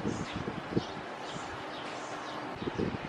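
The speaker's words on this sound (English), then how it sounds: "This is how windy it is." Gusty wind on Santorini at sunset buffeting a microphone with a rough, continuous roar, plus faint scattered rustling.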